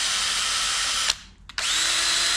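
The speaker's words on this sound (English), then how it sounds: "I picked up a set of wire brushes and that you can put in a drill" Power drill fitted with a wire brush scrubbing the steel frame of a Suzuki TS250 motorcycle, a loud steady high whine that cuts out briefly twice before resuming.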